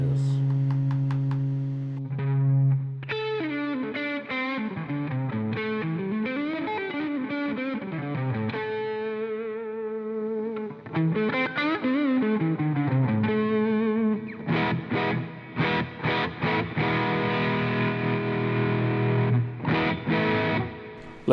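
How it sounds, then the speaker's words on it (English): Electric guitar played live with a moderate distortion effect, sustained chords and melodic bends ringing continuously and loudly, with strummed chord stabs toward the end and no talk over it. "Don't want the distortion too much on this one"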